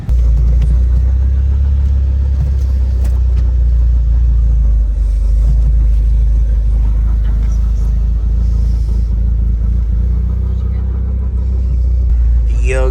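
A tuned car engine rumbles loudly and steadily up close with choppy revving and a slight top-end knock, while people talk over it throughout.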